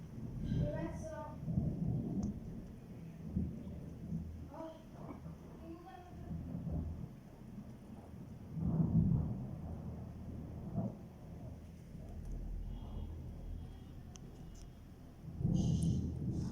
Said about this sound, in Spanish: Está horrible la tormenta.